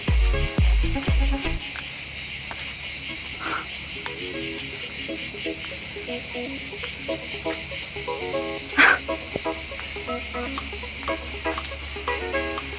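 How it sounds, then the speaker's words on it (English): Crickets on the island of Capri, Italy, chirp in a dense, unbroken high-pitched trill that runs throughout, with faint scattered sounds and a few low thumps near the start. "Are these crickets?"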